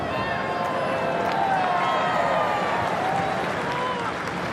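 Stadium crowd of about 21,000 at an AFC Asian Cup 2015 semifinal football match in Newcastle, Australia versus UAE, keeping up a steady, dense roar throughout as a Mexican wave ripples around the ground, with no pauses or distinct peaks.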